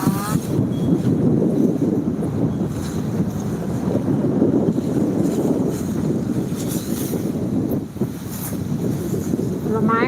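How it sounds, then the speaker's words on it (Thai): Strong wind buffets the microphone in a continuous loud roar, gusting unevenly for the whole stretch, with a few faint higher tones over the rushing noise. "ลมแรงมากเลยนะคะ"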